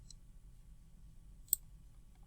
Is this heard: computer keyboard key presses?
yes